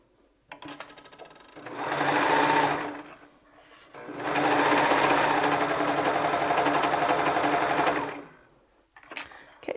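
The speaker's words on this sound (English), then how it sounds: "then we are going to serge all the way around" A serger sewing machine stitches around a fabric gusset in two sustained, loud bursts of rapid whirring, with a short pause between them and quiet at either end.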